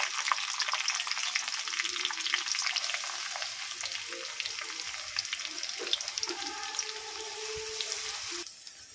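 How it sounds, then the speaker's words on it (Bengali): Onions fry in oil with cumin, cinnamon and cardamom for matar paneer, a close continuous crackling sizzle with occasional stirring clinks, steady until a brief drop at the end. "পেঁয়াজটা লাল লাল করে ভেজে নেবো আমি"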